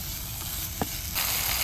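Crushed onion, about 100 grams, sizzles steadily in a hot pan as it fries for a fish curry, a constant hiss with one short sharp pop midway and the sizzle brightening near the end.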